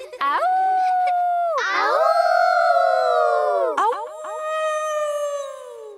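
Cartoon children imitate wolf howls with their voices, calling out loud, long rising and falling howls that overlap in chorus, three swells in a row close up.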